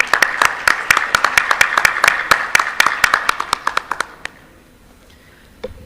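Audience applause greets a panelist taking the stage at a finance and artificial intelligence conference, with brisk, dense clapping that tapers into a few scattered claps before fading to near silence.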